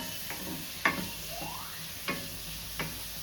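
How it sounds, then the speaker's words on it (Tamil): Carrot and brinjal cook with garlic paste in a pan for Tamil sambar, with a spatula scraping and tapping a few times over a faint steady sizzle. "அப்புறம் கேரட், பிரிஞ்சல் எல்லாம் போட்டு நம்ம சேர்த்து வதக்கணும்."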